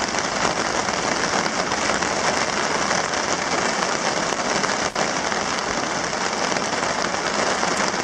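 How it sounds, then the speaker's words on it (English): Heavy rain falls steadily at a wilderness campsite in the Boundary Waters, a dense continuous hiss of drops pattering on surfaces throughout with no other sounds standing out. "Now it's raining again."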